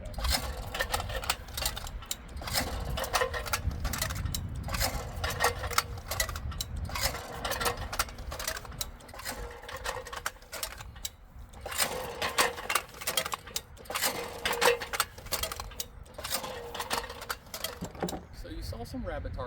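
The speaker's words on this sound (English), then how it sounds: "we are now throwing rabbit targets with a machine" A Lincoln clay target machine launches rabbit targets outdoors, giving a repeated mechanical cycling and thumping clatter at a steady rhythm, fairly loud and close, with some talk in the background.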